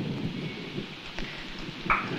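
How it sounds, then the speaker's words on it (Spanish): Steady rain falls through the whole stretch, a dense even wash of drops with a faint low rumble beneath it; no one speaks. "A veces creo que no va a dejar de llover nunca."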